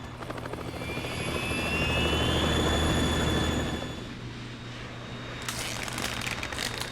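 A Harrier jet's engine roars loud and close in Metal Gear Solid 2, a sustained turbine whine with a steady low rumble that swells over the first few seconds, then drops to a lower drone with a high hiss.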